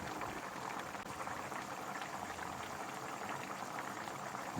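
Milkfish soup with chili, simmering in a covered pot, a dense, steady bubbling and rumbling roil heard close up and alone.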